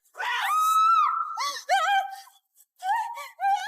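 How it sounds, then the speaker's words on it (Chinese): A loud, drawn-out shriek in a horror film, followed by several shorter strained cries with brief silent gaps between them. "真真切切听到一声嘶吼"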